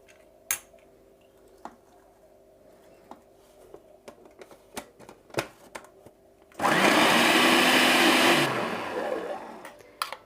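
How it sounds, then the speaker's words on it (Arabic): A few faint knocks and clinks give way to an electric blender roaring loudly for about two seconds as it whirls a vinegar, lemon and spice mixture, then winding down, with no voices. "نحط بقى كل ده مع بعضه كده في الكبه او الخلاط"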